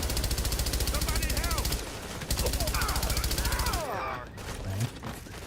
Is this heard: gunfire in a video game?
yes